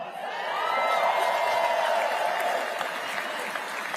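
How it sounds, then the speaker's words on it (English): Crowd at a political rally breaking into sustained applause with scattered cheers and whoops, loud and dense throughout, building early then holding steady with no talking over it. "And they're clapping for it."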